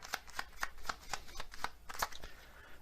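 Kipper cards are shuffled and drawn in a fortune-telling card reading. Nine or so crisp, close riffling flicks come in a quick, fairly regular rhythm, with no talking.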